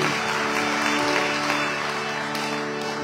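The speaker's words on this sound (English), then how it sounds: "Let's give the Kirtan group a lovely round of applause." An audience at a Sharad Navaratri night gathering at Devi Mandir applauds the kirtan group, a steady, even wash of clapping from a crowd that holds at the same level throughout the short stretch.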